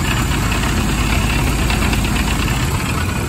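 Ford Model A engine idling steadily while warming up after a radiator flush, a close, loud, continuous low rumble with an even knocking pulse and no voices.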